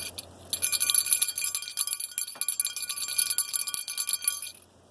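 A small, badly deformed hammered metal crotal bell jingles in rapid, uneven shakes for a few seconds, bright and close, then falls silent.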